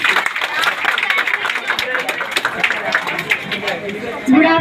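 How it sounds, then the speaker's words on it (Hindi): A school audience at an Independence Day student speech event claps in welcome, a brief scattered burst of hand claps under murmuring voices, close and moderately loud, ending as a speaker begins. "तालियां बजाकर इनका स्वागत कीजिए।"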